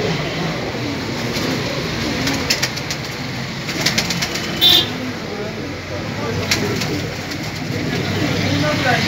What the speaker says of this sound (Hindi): ये बहुत अच्छे कबूतर होते हैं, परवाजी बहुत ज़्यादा, ब्रीडर कबूतर है ये